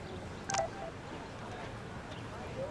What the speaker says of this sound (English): I better read Warren's text before he blows my phone up